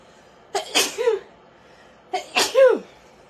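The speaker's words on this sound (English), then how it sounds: "And I'm going to sneeze again." Two separate human sneezes, each a sharp inhaled build-up followed by a loud burst, spaced about a second and a half apart, close to the microphone with no talking in between.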